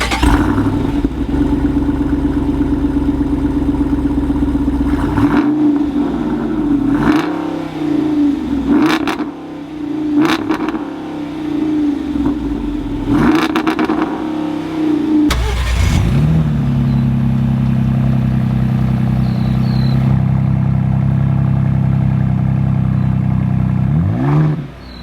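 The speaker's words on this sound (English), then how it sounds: "The Raptor does feature the twin turbocharged EcoBoost 3-liter V6." Ford Bronco Raptor with the twin-turbocharged 3.0-liter EcoBoost V6 idles loudly and is repeatedly revved, the engine rising and falling in several close bursts before settling back to a steady, throbbing idle, with no talking.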